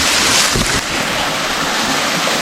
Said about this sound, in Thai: น้ำตกไหลมีเสียงน้ำตกฮะ